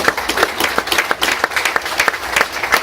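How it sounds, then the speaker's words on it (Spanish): A church congregation gives a round of applause to God, many hands clapping in a brisk, steady patter with distinct sharp claps, close and loud, without talk. "¿Cuántos pueden darle una ofrenda de palmas a Dios?"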